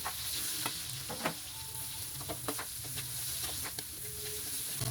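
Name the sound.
sautéing garlic and onion in a pan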